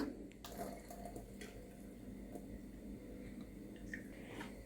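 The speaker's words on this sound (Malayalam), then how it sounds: "ഈ ഒരു വെള്ളം ഞാനിതൊന്ന് അരിച്ചെടുക്കുന്നുണ്ട്" Boiled green papaya water strained through a strainer in a kitchen, a faint continuous watery splash and trickle with small drips, low in level and without voices.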